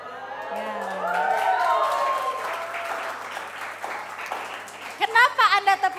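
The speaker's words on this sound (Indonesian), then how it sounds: "Kenapa Anda tepuk tangan?" Audience clapping at a church talk on love and dating, rising under a voice, fading, then a sharper burst of louder claps near the end.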